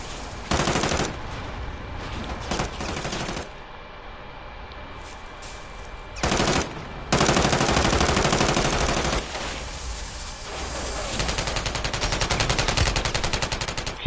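Gunfire in the video game Warzone 3: loud, dense bursts of rapid automatic fire come in several long blocks broken by short quieter gaps, close and harsh throughout, with no talking.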